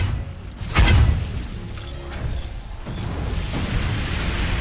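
Heavy mortars firing and exploding in the physics-based fort battle game Forts: a loud deep boom near the start, followed by rumbling debris and mechanical clatter, with scattered smaller impacts.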